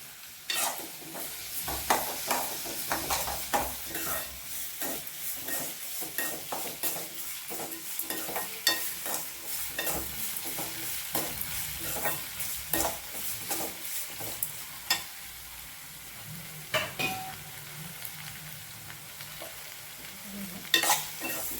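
Beans and carrots stir-fried in oil in a pan for semiya upma, with a steady sizzle broken by repeated scraping clicks of a spoon stirring the vegetables, close and moderately loud throughout, with no talking.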